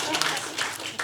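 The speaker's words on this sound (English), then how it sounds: "No need to applaud me. Applaud my wife." Audience clapping and applauding in a hall, a brief, dense burst of hand claps over about a second, heard close and fairly loud.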